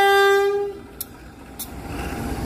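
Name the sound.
local commuter train departing station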